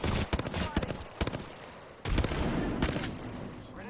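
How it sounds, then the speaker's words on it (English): Repeated bursts of Apex Legends gunfire crackle close and loud, several sharp volleys separated by brief gaps, with game voice lines faintly underneath. "I am taking fire, friends."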